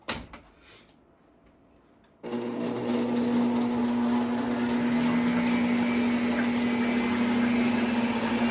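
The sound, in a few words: electric mixer whisking cake batter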